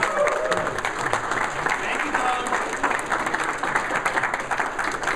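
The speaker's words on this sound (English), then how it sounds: "Everybody, give a big round of applause for Doug from Boeing to make the trip down to us." At the 1World launch event, an audience gives Doug from Boeing a round of applause. The clapping is loud and steady throughout, and a voice briefly speaks over it.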